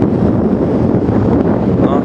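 Strong wind off the Atlantic buffets the microphone in a constant roar, driving a shallow sea toward the shore with a low wash of surf underneath.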